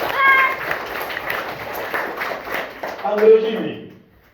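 A class of primary-school children in Jaunpur claps together in a classroom, a dense, busy patter that runs steadily for about three seconds and then fades out. An adult voice is heard over the clapping.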